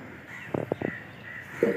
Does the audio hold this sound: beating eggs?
no